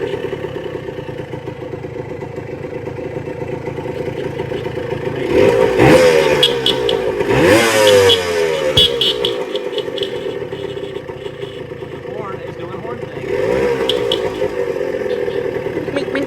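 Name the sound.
vintage motorcycle engine running after 24 years sitting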